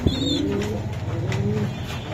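Pigeons cooing close by, soft low throaty coos repeating steadily with a faint higher chirp early on.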